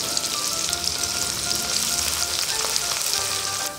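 Chopped onions frying in hot oil for rui fish kalia, giving a loud, steady, close sizzle throughout with no talking.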